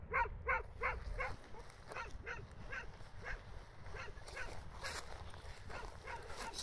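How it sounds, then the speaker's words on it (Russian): Two stray dogs on a hill bark repeatedly in short, evenly spaced bursts, heard at a moderate distance outdoors with no talking. "А там бродячие собаки."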